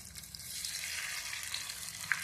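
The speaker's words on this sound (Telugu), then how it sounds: "ఇది ఫ్రై అవుతుంది." Fish frying in a pan gives a faint, steady hiss with a few small crackles, heard up close and alone.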